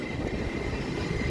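Train rumbling at Kasaragod railway station, a steady low rolling noise held at an even level throughout, with no voices.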